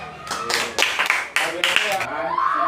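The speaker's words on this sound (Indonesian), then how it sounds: "kasih aplaus dulu buat kelompok 1 di sana" Classroom applause at an elementary school (SDN 1 Seraya), given to a student group: a few bursts of hand clapping from several children, fairly close and lively, mixed with voices talking.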